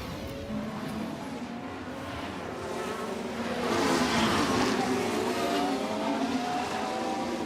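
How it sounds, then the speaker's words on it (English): An F1 car with an engine fault in the racing game F1 Manager 24, a whining, buzzing engine note with shifting pitch and a steady roar that swells slightly midway, with no talk. "It sounds like an engine issue."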